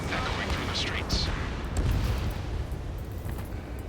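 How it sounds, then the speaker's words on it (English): Dense, continuous rumbling bursts of gunfire and booming blasts under a steady roar, with a jet-like whoosh rising midway, in the video game Ace Combat 7: Skies Unknown. "gunfire and the roar of jets echoing through the streets"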